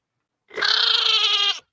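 A single sheep bleats once, close and loud, a wavering cry lasting about a second with nothing else around it.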